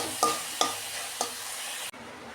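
Sesame seeds being dry-roasted in a pan give a soft rustling hiss with three scraping stirs, then the sound cuts off abruptly.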